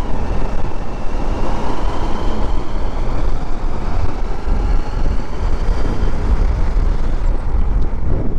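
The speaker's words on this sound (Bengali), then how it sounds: "গাড়িগুলো টোটোর জন্য ডান পাশে একটু বেশি চেপেই চালাচ্ছে, টোটোকে ওভারটেক করার জন্য।" Steady, loud road traffic of cars passing and overtaking an e-rickshaw (toto) on a foggy road at a traffic signal in Farakka, a continuous close broadband rumble with no talk.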